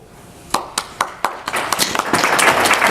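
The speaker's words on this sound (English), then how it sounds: "I got the robots to clap on time." People in an audience clapping for robots: a few separate sharp claps, then a burst of faster overlapping clapping that swells into brief applause, heard close.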